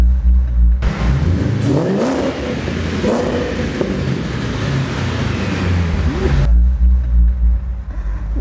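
A 650-horsepower car engine revs hard on a Cairo street, rising pitch sweeps climbing and falling in a loud continuous roar, with idle rumble before and after.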